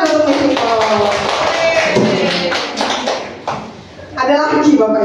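A classroom audience claps in a burst of applause that starts loud, fades midway, then swells again, with voices talking through it.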